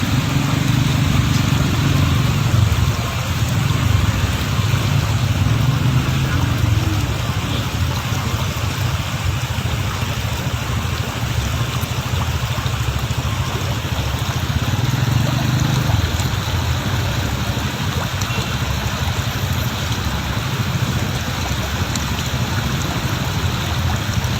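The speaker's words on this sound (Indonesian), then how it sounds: "Kita sedang berjuang melewati Sungai Kaget di" Loud, steady rushing water fills the whole stretch, with a low engine rumble running underneath as a vehicle pushes through the flooded Sungai Kaget river on a provincial road near Panei Tongah, Indonesia.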